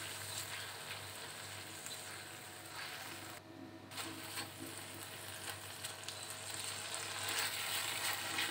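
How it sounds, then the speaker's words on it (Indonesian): Eggplant and anchovies with balado chili paste sizzle in a pan in a steady, close hiss, with faint stirring scrapes and a brief dip partway through. "tinggal ditumis aja sampai wangi, sampai benar-benar matang juga ya bun."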